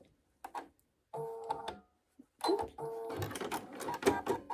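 Domestic sewing machine joining quilt-as-you-go quilt pieces along a seam line, in several short bursts of motor whirring and clattering needle stitching, growing longer and steadier toward the end, close and fairly loud with no talk.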